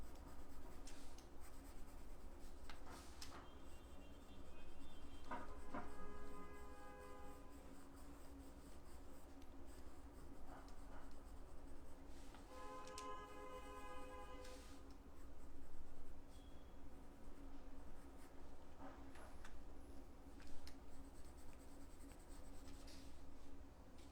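Jelly roll gel pens draw on paper close up, with quiet scratching strokes in irregular bursts and occasional quick rhythmic dotting runs, no voices.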